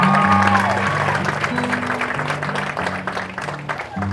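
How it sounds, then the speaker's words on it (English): A crowd at a Christian school homecoming court presentation during a football game applauds, steady clapping heard over sustained low tones from a band or sound system. "Let's give them all a round of applause."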